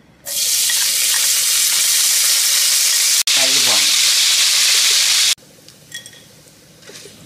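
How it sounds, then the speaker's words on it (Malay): Salted fish fries in hot oil in a wok with a loud, steady sizzle that cuts off abruptly twice. It is followed by quieter clinks and light kitchen clatter. "Mula-mula Pakcik siapkan kuali, minyak, lepas tu Pakcik goreng ikan masin dulu."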